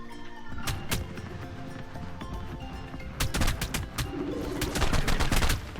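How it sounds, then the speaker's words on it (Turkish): Dart-like shooting impacts in ARK Survival Evolved, a run of sharp repeated hits and snaps in clusters over steady game ambience, close and loud, with no talking. "Böyle girme gibi ses geliyor. Sanki mermi sesi değil de böyle batırma gibi. İğne batırması gibi."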